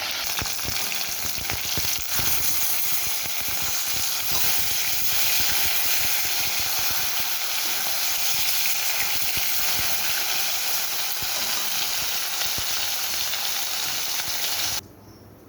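Pieces of bhola fish frying in hot oil, a steady, loud sizzle and hiss that runs unbroken for most of the stretch before dropping away sharply near the end.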